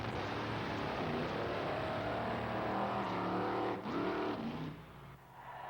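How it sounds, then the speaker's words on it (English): A supercharged, fuel-injected big block Chevrolet pickup truck drag racing down a quarter mile: a loud sustained engine roar held for several seconds, dipping briefly, then fading near the end. "A little wind-up motor in the back, really cranking it out to get this pickup truck down the quarter mile."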